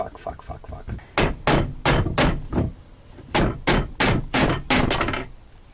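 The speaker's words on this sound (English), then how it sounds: "See if we can drive those nails in." A hammer drives nails into a wooden spice rack, turned upside down after a crack was glued: about a dozen sharp, close knocks in quick groups with short pauses.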